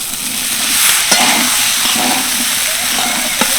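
Boiled pasta stirred with chopped capsicum and onion in a hot pan, giving a loud, steady sizzle with a few sharp scrapes of a spoon against the pan.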